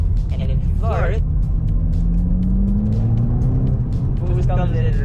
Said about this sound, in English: the active exhaust turns on, and if you floor it